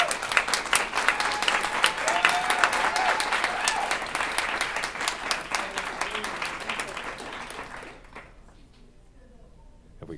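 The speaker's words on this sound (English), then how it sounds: "Please clap for Michael." A conference audience applauds for a debate participant, a dense, loud burst of clapping that holds steady for several seconds and then dies away abruptly into quiet room tone.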